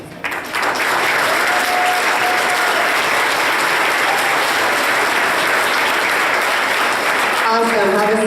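Loud sustained applause and cheering from an audience at a winter band concert, dense continuous clapping that starts abruptly and holds steady, with a voice briefly audible near the end.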